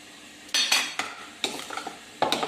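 Shallots and ginger juice stirred in a pan with a utensil: four separate bursts of scraping and clinking, close and fairly loud, with short quiet gaps between them and no talking.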